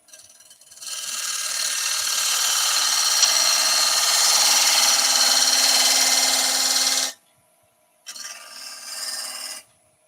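A flat scraper rasps against an ash bowl spinning on a wood lathe, making a steady, close hiss for about six seconds. It stops, then a second, shorter pass follows after a brief silence.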